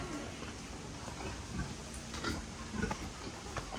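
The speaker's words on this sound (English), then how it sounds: "She is a big pig." A big mother pig near her litter of seven piglets gives low, faint grunts and a few short oinks against steady outdoor noise, without talk.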